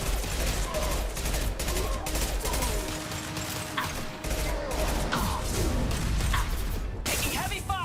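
Heavy gunfire rattles nonstop through a Mass Effect 2 firefight, dense volleys and mechanical clatter filling the whole stretch at loud, close range, with occasional whooshes cutting through.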